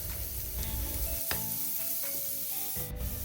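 Chopped cabbage, mustard seeds, curry leaves and green chilies sizzle in hot oil as they are stirred, a steady close frying hiss broken by a few sharp scraping clicks of the spoon, with no talking.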